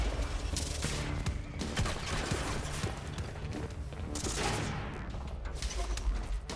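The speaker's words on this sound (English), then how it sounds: "somebody's shooting from down there" Sustained gunfire rattles through a Quantum Break firefight, a dense fusillade of rapid shots and crashes that barely lets up.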